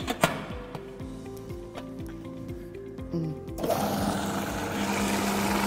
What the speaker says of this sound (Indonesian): Kemudian kita giling lagi sebentar dengan adanya garam tadi ya.